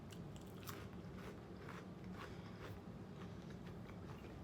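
Crisp bites into a small crunchy Cheez-It cracker from a homemade snack mix, with repeated crackly crunches and chewing close up, steady and fairly quiet with no talking.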